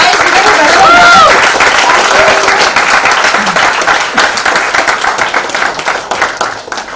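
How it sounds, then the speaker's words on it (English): A large audience at a book launch event gives a sustained round of applause with clapping and cheering, loud and continuous, tapering slightly toward the end. "Can we have a huge round of applause?"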